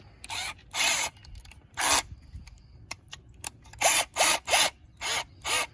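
Screw being undone with a hand tool, heard as a series of separate scraping, grinding bursts, some longer and some short, arriving in an uneven rhythm close by with no talk.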